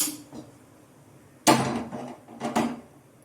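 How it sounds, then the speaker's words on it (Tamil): Two sharp metallic clunks, a cooking pan set down on a stovetop with a rattle, separated by about a second in an otherwise quiet room. "இப்போது ஸ்டவ் ஆன் பண்ணி பாத்திரம் வச்சுக்கலாம்"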